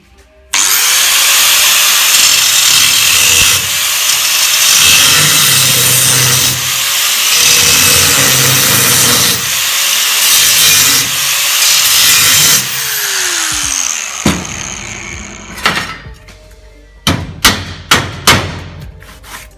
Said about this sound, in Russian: И сейчас здесь вырежу болгаркой квадрат.